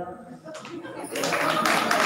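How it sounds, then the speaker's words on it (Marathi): An audience at a village puja event breaks into applause after a play, starting with a few scattered claps under a voice and then swelling into full, steady clapping. "जोरदार टाळ्या. खूप सुंदर."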